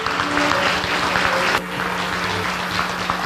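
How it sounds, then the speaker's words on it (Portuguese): An audience at an evening tribute event in Jaú applauds steadily and loudly from start to finish, dense clapping that fills the room. "Uma salva de palmas para o Sr. Luiz."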